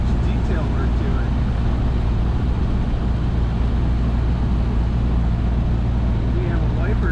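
A 1930 Ford Model A Roadster with a rumble seat drives along with a loud, steady low engine drone and road rumble, with faint voice fragments underneath.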